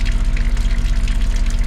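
A pump drains water from a large water tank on a boat, running with a loud, steady rapid pulsing throb and a gushing rush of water close by.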